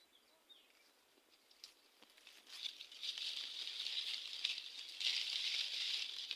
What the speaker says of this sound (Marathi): अजून पण त्याच्यावरून पाणी गळतंय बघा झाडावरून